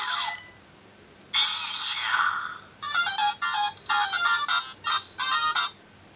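Electronic phone-button tones from a Kamen Rider Gaim Lock Seed candy toy: a short beep, then a sustained bright ringtone-like burst followed by a rapid series of chirping pressed-key tones, loud and close, with no talking.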